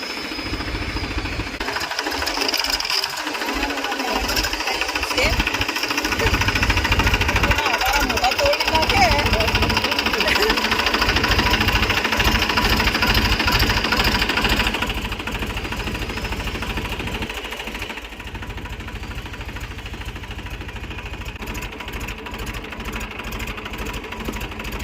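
A tractor engine runs steadily in a farm field during orchard clearing, a loud continuous chugging drone throughout with speech over it; the engine eases to a slightly quieter level midway.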